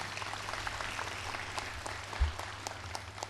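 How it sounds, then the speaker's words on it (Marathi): An audience at a lecture series applauds with a steady patter of many hands clapping, moderately distant in a hall, sustained for a few seconds with a brief louder thump midway. "तसंच याच्यासाठी एक वेळ आपण प्रचंड टाळ्या वाजवू"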